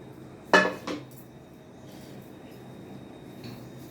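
A metal tempering pan clanks sharply twice, then liquid splashes and trickles softly as it is rinsed out into a pot of moong dal rasam.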